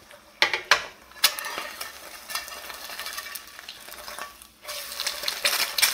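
An egg fries with very little oil in a stainless steel pan, giving a soft steady sizzle broken by a few sharp clicks and scrapes of a utensil against the metal, close and clear with no talking.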